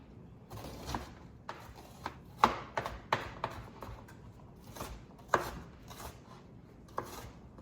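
A knife dices vegetables small on a cutting board with quick, fairly quiet taps and knocks in short bursts, close by and without talk.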